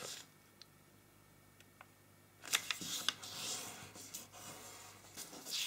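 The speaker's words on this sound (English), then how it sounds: "take this edge and bring it to the top edge to fold the paper" Sheet of paper being folded in half for an origami rose: a few crisp rustles and creasing scrapes close by, following a quiet stretch, with no talking.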